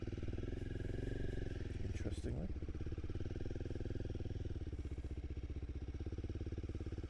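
Royal Enfield motorcycle engine, a classic-looking bike just wheeled out of a van, running with a steady low rumble throughout, close by, with someone talking over it.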